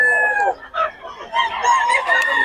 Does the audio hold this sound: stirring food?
no